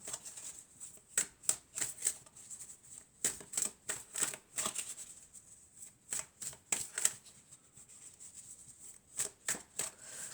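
Oracle cards being shuffled for a daily card reading, a steady series of soft riffling flutters and slaps close up, repeated in bursts with short pauses and no talking.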